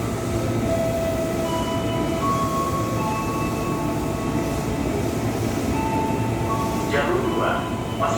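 A KRL commuter train at Sudirman station in Jakarta: a steady, loud rumble of the train and platform noise throughout, with a brief squeal near the end.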